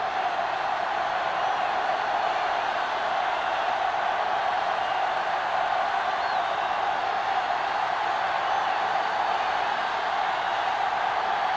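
A stadium crowd roars at the opening kickoff of a football season game, a dense steady wash of cheering that holds constant throughout, broad and distant-sounding with no clear individual voices.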